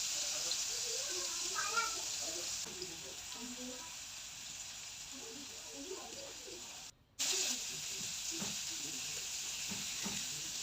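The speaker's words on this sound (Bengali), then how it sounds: "সবগুলো চিংড়ি আমি এখানে দিয়ে ভালো করে ভেজে নিব।" Shrimp frying in a pan give a steady, moderate sizzle with scattered crackles and pops up close, briefly cutting out for a moment before the hiss resumes.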